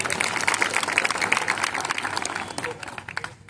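A crowd at a Marathi political speech claps in a sustained burst of applause that gradually tapers off, loud and close.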